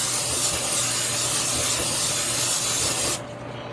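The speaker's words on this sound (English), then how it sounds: "now we're going to grease our pan here" Cooking spray hisses loudly and continuously onto a baking pan for zucchini chocolate chip bread, a close, broad spray that stops abruptly just before the end.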